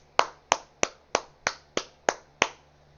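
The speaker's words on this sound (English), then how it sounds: "I just clapped my hand" Eight sharp hand claps in an even, moderately quick rhythm, each crisp and close with a short decay, and a faint low hum beneath them.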